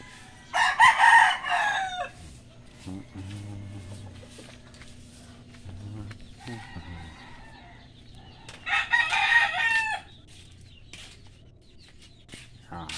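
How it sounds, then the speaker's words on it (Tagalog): Farmyard chickens cluck softly and intermittently at close range, while a rooster lets out two loud, drawn-out crows, one near the start and another toward the end. "Ang daming manok dito"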